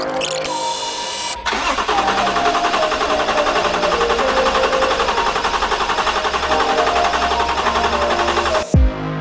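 A loud, steady drill whine runs continuously for several seconds, drilling out a bolt on a Land Rover Discovery 4 bumper at close range with no talking, then cuts off abruptly near the end.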